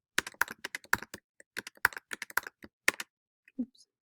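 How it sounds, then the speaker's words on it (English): Typing on a computer keyboard while writing an essay in Google Docs: quick, close, light clicking keystrokes in irregular bursts with brief pauses, ending on a few isolated taps. "when I type the rest of my essay"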